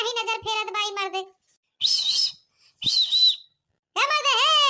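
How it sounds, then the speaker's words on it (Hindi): Someone whistles several shrill, warbling phrases with short silent pauses between them, close and fairly loud. "तब से सीटी हम देत हई"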